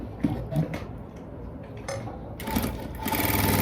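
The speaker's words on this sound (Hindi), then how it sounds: "इस तरह किनारे के पास से सिलाई लगाते हुए इस चीज को सेट करते हुए चलेंगे" Sewing machine stitching near the edge of chiffon saree fabric, a close mechanical whir that starts and stops in short runs, then speeds into a steady, louder buzz at the end; no voices.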